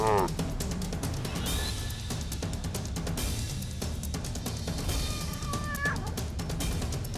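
A cat meows in short rising cries, faint against a busy background with talk and clatter running throughout.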